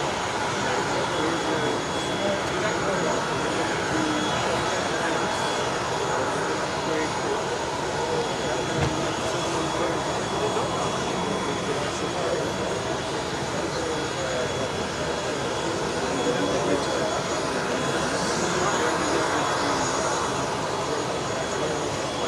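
An Embraer C-390 military transport aircraft lines up on the runway at the Paris Air Show, its engines giving a steady, broad jet roar at moderate distance, with a person talking faintly over it.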